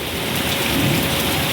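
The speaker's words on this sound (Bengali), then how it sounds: "আপনারা দেখতে পাচ্ছেন আমার বাইকটা পুরো বৃষ্টিতে ভিজছে, ব্যাটারি বাইক।" Heavy rain pours steadily onto a battery-powered electric bike left out in a storm, a dense, continuous wash of drops drumming close by with no voices.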